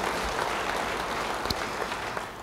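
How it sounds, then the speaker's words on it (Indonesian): A church congregation claps together in a dense, sustained round of applause that fills the room at an even level, with a faint voice in the mix. "Yang mau beri tepuk tangan bagi dia."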